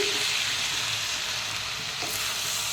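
Onions sizzle and fry in a pan for chili chicken, a steady, dense hiss close to the mic with faint stirring scrapes underneath.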